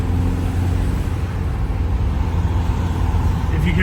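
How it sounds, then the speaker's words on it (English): A dense, steady, high-revving car engine roar with broadband road noise throughout, driving Kirkstone Pass in Cumbria, loud and continuous with no break. "If you can hear high revving, it's not because I've forgotten to change gear."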